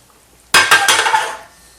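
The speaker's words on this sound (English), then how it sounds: "And I mix that all up." A spoon clatters and scrapes against a bowl while granola is stirred together with warm coconut oil, honey and maple syrup: a sudden burst of clinking strokes, close and fairly loud, then fading.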